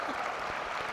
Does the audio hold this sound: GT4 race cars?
no